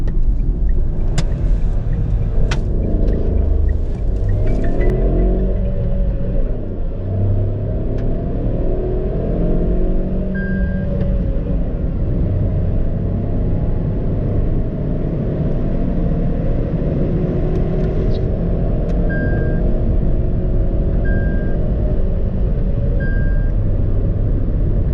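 A Tata Altroz turbo hatchback in sport drive mode accelerating hard from 0 to 100, loud steady engine drone with rising pitch through the gears and faint beeps, heard from inside the cabin with no talk.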